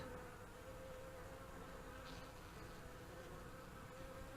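Honey bee swarm moving into a top bar hive, a steady, faint, continuous buzzing drone that holds evenly throughout without any talk.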